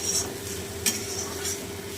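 Onions coated in gram flour with nigella seeds and green chilli fry in a pan for crunchy onion fritters, giving a steady sizzle with a few short stirring scrapes.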